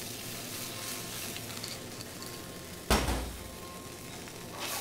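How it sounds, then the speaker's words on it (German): Pan sauce with red wine bubbling and sizzling on the stove, a constant close hiss with one sharp clatter of a pan or utensil partway through. "Wenn das kocht, tun wir noch einen Schuss Rotwein dazu."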